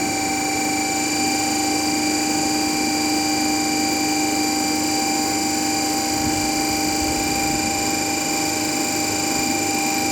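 A DC shunt generator runs steadily at about 1500 RPM, giving a loud, constant machine whine with several sustained tonal hums and a broad noisy drone throughout, and no voices.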